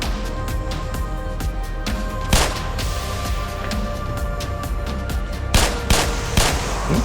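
Loud, rapid gunfire from the video game Black Mesa, with bursts of sharp shots and heavier booming blasts spread across the stretch, no voices over it.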